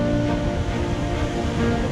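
Waves breaking on Mikali Beach on an Aegean island, a continuous close surf roar with wind buffeting the microphone, no voices.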